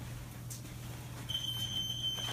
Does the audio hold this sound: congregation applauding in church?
no